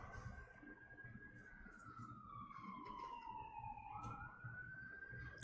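An ambulance siren sounds outside during a winter storm, its tone sweeping down slowly and rising again in one long wail, distant and fairly faint over low rumbling.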